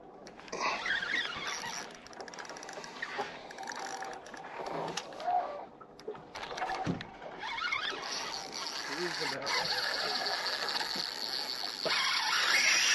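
Fishing reel drag screaming as a big fish pulls line, a continuous high, rasping ratchet whine that swells and fades with the run, loud and close over outdoor background noise.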